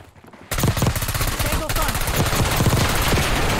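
An AS VAL rifle firing in Black Ops 6: close, loud, rapid automatic fire that starts abruptly and continues as a sustained stream of shots.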